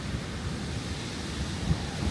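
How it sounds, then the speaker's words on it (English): A waterfall at an old mill that once turned the mill wheel makes a steady broadband rush of falling water, fairly close and continuous, with some wind buffeting the microphone and no talking. "I just want to show y'all the waterfall."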